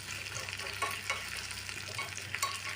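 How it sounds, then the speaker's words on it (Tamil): Almonds frying in a pan while being stirred, a steady close sizzle with soft scraping strokes and occasional clicks of the spoon against the pan, with no voices. "கொஞ்சம் பாதாம் போட போகிறோம். ஸோ இதை நம்ம வந்து நல்லா ஃப்ரை பண்ண போகிறோம்"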